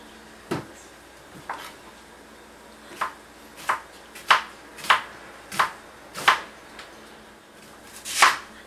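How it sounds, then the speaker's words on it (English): Knife mincing a large heap of onions for goulash on a cutting board: about nine crisp, separate chops spaced at uneven intervals, close and moderately loud, with no talking. "The proper foundation of every goulash is a lot of onions. So we want to mince these as thinly as possible."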